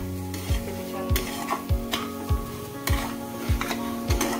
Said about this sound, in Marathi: आणि आता ड्रायफ्रूट घालू आपण आणि मिक्स करून घेऊ।